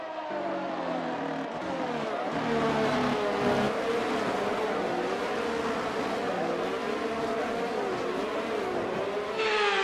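F1 cars in the F1 23 video game roll through the formation lap on the Baku street circuit, several engines droning and rising in pitch together, loud and continuous throughout.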